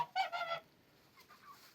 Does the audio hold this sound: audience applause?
no